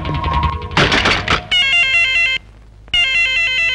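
Old-style telephone bell rings in two loud bursts with a short gap, following a thud and a brief shout, in an indoor scene from a Telugu film.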